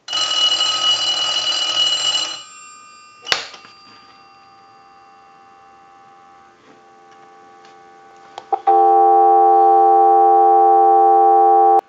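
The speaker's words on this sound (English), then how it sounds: "we'll give you some dial tone" A payphone finishes a loud electronic ring burst, goes quiet apart from a click and faint hum, then a steady, loud dial tone comes on with no voices.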